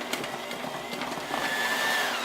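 An electric mixer churns chocolate almond cookie dough with a steady motor whir and a faint whine that builds slightly toward the end, heard alone without speech.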